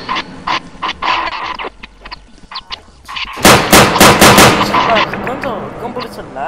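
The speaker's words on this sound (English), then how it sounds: "Gun bullets are loud." Gunfire in the Roblox game Darkness 2, loud rapid bursts of shots, first spaced cracks and then a dense volley of repeated blasts close up, with a voice briefly heard among them.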